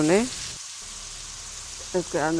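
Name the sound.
tomatoes and green chillies cooking in a pan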